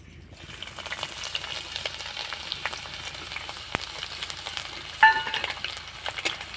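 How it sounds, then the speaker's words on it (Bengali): Whole spices, cinnamon, cloves and chopped ginger crackle and sizzle in hot oil, a steady close fry with scattered pops and a couple of sharper metallic taps near the end, no talking. "এদিকে আমি ফোড়নটা ভেজে নিয়েছি"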